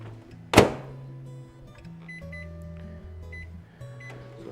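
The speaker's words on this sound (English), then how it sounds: "pop that in the microwave to heat up." A microwave oven heating tomato couscous shuts with a sharp thunk, then runs with a low steady hum and a few quiet electronic tones.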